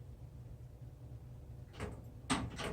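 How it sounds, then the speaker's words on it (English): The top drawer of a HyperTough 5-drawer 20-inch metal tool chest with riser slides open in two brief, quiet rasping pulls over faint room noise. "So I'm gonna open this top drawer."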